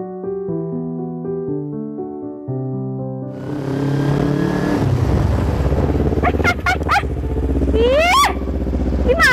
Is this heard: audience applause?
no